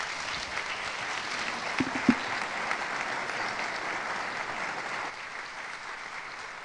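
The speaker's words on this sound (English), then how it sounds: "Let's have one more round of applause for Un and Sam." An audience at a college convocation applauds in a dense, sustained wash of clapping at moderate distance, with a few sharper nearby claps standing out and the applause tapering toward the end.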